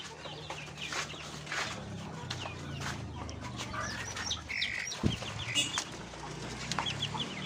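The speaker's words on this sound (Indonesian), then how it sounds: "ini kinggor ya, anakan kinggor yang tetasan dari antrian telur tetas kinggor kemarin itu" Young Kinggo chicks in a coop give soft clucks and scattered peeps, with faint rustling and the occasional flutter of wings close by.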